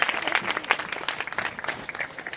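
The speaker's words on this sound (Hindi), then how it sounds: "ताली बजा दो यार" An audience at a college fiesta claps in scattered, uneven applause, moderately loud and brief, with a faint murmur of voices.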